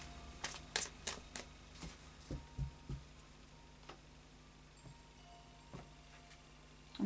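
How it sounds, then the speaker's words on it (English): A Tarot of Dreams deck is shuffled by hand, giving faint, soft card clicks and riffles that cluster in the first three seconds, then turn sparse and occasional over a quiet background. "final shuffle of the Tarot of Dreams for you"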